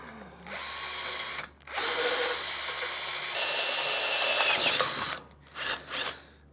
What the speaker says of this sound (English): And then I'm going to go from the other side and get that drilled out.